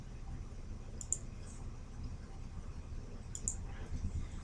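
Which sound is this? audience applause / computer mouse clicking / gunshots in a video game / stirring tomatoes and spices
computer mouse clicking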